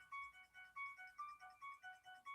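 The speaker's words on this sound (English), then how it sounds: "That's my phone." A phone ringtone plays a repeating electronic melody of short, evenly spaced tones, fairly faint and heard alone without talk over it.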